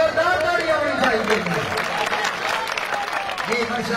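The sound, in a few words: applause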